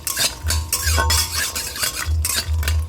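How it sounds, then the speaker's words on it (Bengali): Bori lentil dumplings frying in a wok, with repeated scraping and stirring strokes against the pan over a steady low hum and a faint sizzle. No voices. "এই যে বড়িটা ভাজছি"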